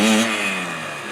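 A motorcycle engine drones during a braking drill, a short steady tone that gradually drops in pitch as the bike slows, close and fairly loud with no talking.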